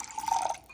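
Filtered water is poured into a homemade salad dressing of red wine vinegar, a faint, soft trickle that swells briefly in the middle and then tapers off.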